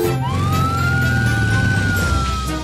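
A cartoon ambulance siren sounds as a loud, single wailing tone that sweeps upward and holds steady, over a busy background of music and noise.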